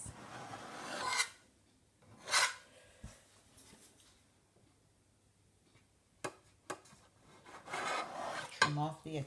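Knife or cutter trimming excess pastry dough for a Guyanese pine slice, giving a few short scraping, rasping strokes near the start and again toward the end, with quiet pauses between them.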